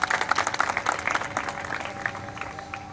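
Applause from the audience at a community felicitation ceremony in Dhule honouring a young woman, dense clapping that starts strong and gradually thins out, with no talking over it.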